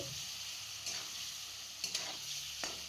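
Mango pieces fry in oil for a chutney, a quiet, steady sizzle with a few isolated scrapes of a spoon against the pan, faint and close, and nobody talking.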